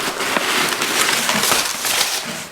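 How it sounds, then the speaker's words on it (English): Paper crinkles and rustles in irregular bursts while a lucky bag is opened, close and fairly loud with no talk. "I apologize for the paper noise."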